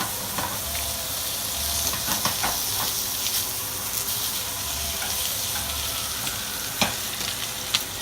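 A New York strip steak sears in butter in a hot pan, giving a steady close sizzle and hiss with occasional sharp pops and crackles throughout.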